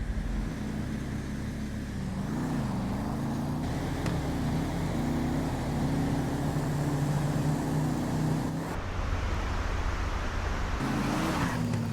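Drag race cars in the video game GTA 5 accelerate hard off the line in a Street Outlaws style race, a loud continuous engine roar with shifting pitch, a brief drop near the end before the revving returns.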